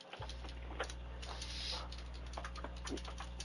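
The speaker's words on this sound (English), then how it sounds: "I'm typing, so if I go silent for a couple seconds, you'll know why." Light, steady clatter of typing on a computer keyboard, with soft irregular key taps over a constant low electrical hum, and no one speaking.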